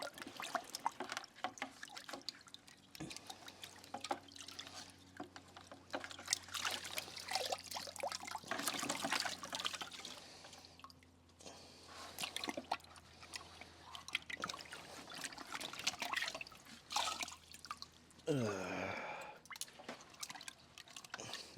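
A saltwater aquarium heater is rinsed under water: irregular close dripping, trickling and splashing with bursts of running water and soft handling clatter, fairly quiet overall.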